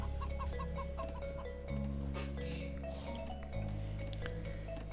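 Chickens cluck in the Age of Empires strategy game, a few short clucks over steady in-game ambience and a looping background tone, without any talk.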